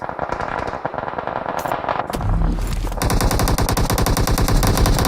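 Rapid automatic gunfire sprays in PUBG Mobile during a tournament match, fired through smoke: dense, loud bursts that intensify into a sustained fast rattle of shots with no talk.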